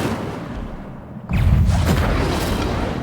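An Incendio fire spell goes off in Hogwarts Legacy, a sudden deep whooshing burst that swells into a loud, roaring rumble and holds for a couple of seconds.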